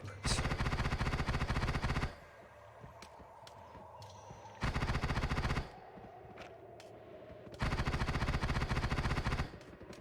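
Sniper fire in a video game comes as three loud bursts of rapid, dense gunfire separated by quieter stretches with faint sharp clicks and pops.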